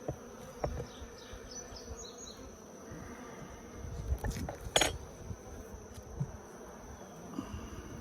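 Honeybees in an opened Layens hive give a soft, steady buzz under a low hum, with a few brief louder passes and light clicks around the middle.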